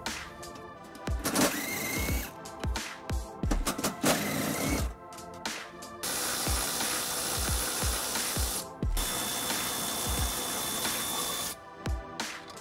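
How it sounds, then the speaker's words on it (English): Ratcheting with an 18 millimeter socket removing tow hook bolts on a 2021 Nissan Sentra, quick repeated clicking bursts with short pauses, then longer runs of ratchet clicks. "It is being held by four bolts that we'll be removing by using 18 millimeter socket."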